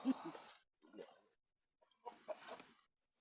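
Chickens cluck in three short, close bursts separated by brief silences, with no other sound in between.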